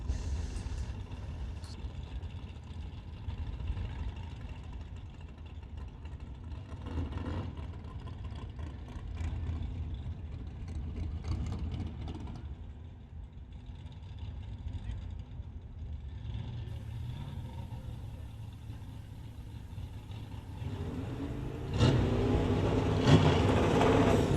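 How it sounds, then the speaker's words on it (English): A 1979 Camaro with a 376 engine making a solo drag racing pass on a West Coast outlaw street strip, its engine a steady distant rumble under an announcer's commentary, rising louder near the end. "Good looking 79 Camaro with the 376."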